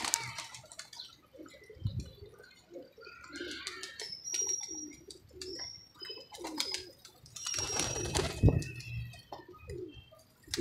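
Pigeons cooing and calling nearby in a loft, low repeated coos with brief chirps and flutters, fairly steady over a background of bird activity.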